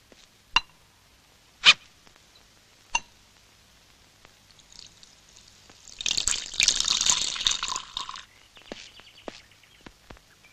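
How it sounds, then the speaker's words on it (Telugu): Drinking water is poured for a thirsty man, a quiet two-second splashing stream following a few sharp knocks, with the scene otherwise near silent. "సార్, దాహంగా ఉంది, కొంచెం మంచినీళ్ళు ఇస్తారా?"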